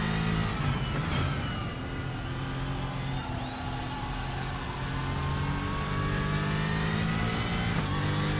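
A race car engine in the RaceRoom racing video game drones at a steady high pitch, its revs rising and falling as it accelerates, loud and continuous.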